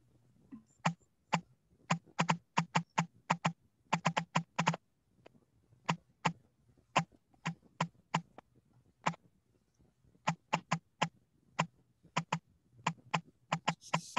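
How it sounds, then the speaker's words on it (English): Keys clack on a keyboard in irregular bursts of quick taps with short pauses, close and fairly quiet over a faint low hum. "Sounds like we have a typewriter going."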